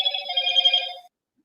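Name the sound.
telephone ringing noises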